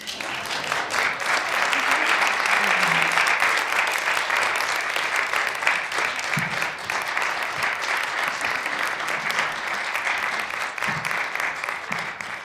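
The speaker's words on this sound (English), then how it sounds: "I think we need a round of applause." Sustained audience applause fills a panel discussion at a women-in-the-arts symposium, steady dense clapping lasting about twelve seconds at moderate distance with faint crowd murmur underneath.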